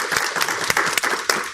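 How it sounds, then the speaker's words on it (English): Small audience at a live therapy demonstration giving a short burst of clapping, close, dense and uneven hand claps for about a second and a half. "So I think we need to give you a clap first,"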